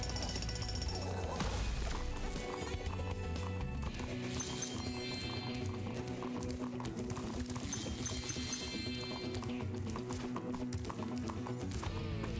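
Clip-clop of creatures' hooves in the video game Spyro 2, a steady rhythmic clatter running under dense game music throughout.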